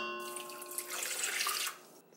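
Warm water poured into a mixing bowl holding sugar and yeast, a steady splashing pour of about a second and a half that tapers off, close and moderately loud with no talking.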